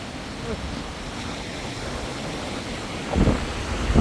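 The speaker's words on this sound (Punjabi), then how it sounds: "ਦੇਖੋ ਪਿੱਛੇ ਪਾਣੀ ਕਿੰਨੇ ਜ਼ੋਰ ਸ਼ੋਰ ਨਾਲ" A steady roar of surf on a New Zealand beach fills the air, with a louder wave surge breaking near the end; broad, rushing noise close by.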